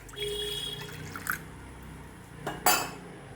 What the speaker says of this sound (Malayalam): അതിന് വേണ്ടിയിട്ട് കുറച്ച് വെള്ളം ഒഴിക്കട്ടെ